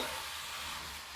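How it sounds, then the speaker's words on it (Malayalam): Prawn roast fries and sizzles in a pan while being stirred, a steady close hiss filling the short stretch with no voices. "ഇനി നമുക്ക് ഇത് ഇളക്കിയിട്ട് നന്നായിട്ട് വേകാൻ വേണ്ടി വെക്കാം"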